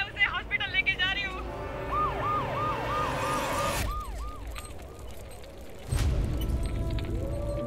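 An ambulance siren wails in repeated rising and falling sweeps, loud and close at first, then cut off by a sudden heavier rumble, with voices speaking over parts of it.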